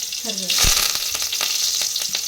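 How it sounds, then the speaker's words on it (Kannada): Mustard seeds, cumin and curry leaves hitting hot oil for a tempering, a sudden loud crackling sizzle that swells and then hisses steadily with sharp popping spits. "ಸಾಸಿವೆ ಜೀರಿಗೆ ಕರ್ಬೇವು ಅವನ್ನೆಲ್ಲ ತೊಗೊಂಡು ಒಗ್ಗರಣೆ ಹಾಕ್ಬೇಕು"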